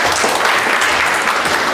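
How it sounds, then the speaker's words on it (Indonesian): Loud, steady applause from an audience at a public university lecture, a continuous dense patter of many hands clapping throughout with no talk over it. "Tepuk tangan untuk kita"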